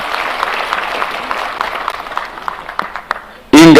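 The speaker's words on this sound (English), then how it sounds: "Can we give a clap of appreciation to Amma?" A crowd at a national housing programme event at Bomas applauds in scattered, uneven claps that thin out over a few seconds, with voices mixed in, before a sudden loud burst of noise at the end.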